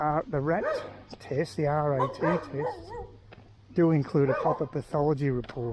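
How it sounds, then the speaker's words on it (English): A dog barks and yips excitedly close by, mixed in with someone talking outdoors on a residential property, with the barking continuing in bursts throughout. "That dog always goes berserk."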